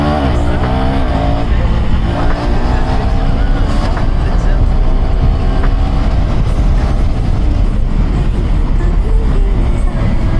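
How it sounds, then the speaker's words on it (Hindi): A KTM 390 Duke motorcycle accelerates hard after a U-turn on an Indian street, its engine note rising loud and steady throughout, with wind rush and a voice talking over it. "ये चेक करो एक्सेलरेशन।"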